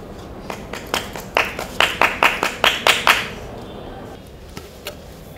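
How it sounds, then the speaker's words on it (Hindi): A woman claps her hands during a group activity in a life skills training session, with about a dozen sharp claps in a quickening burst, then a few fainter claps afterward, in a slightly noisy room. "मैं अपना मुंह उस तरफ करके ताली बजाऊंगी।"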